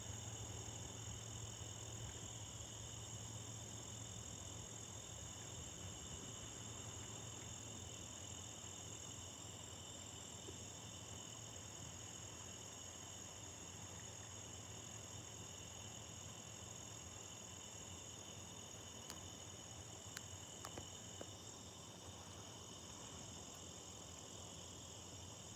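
Crickets, tree frogs and cicadas fill a hot summer night with a dense, continuous chorus of steady high trilling and buzzing, faint but unbroken throughout.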